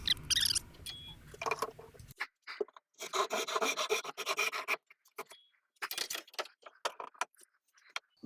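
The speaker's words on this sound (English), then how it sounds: "Here I'm using a parting tool to try to get that end dialed in a little bit more and get ready to cut it off" Parting tool cutting into a spinning piece of wood on a wood lathe: close, scratchy rasping bursts that come and go in several passes, separated by brief silences.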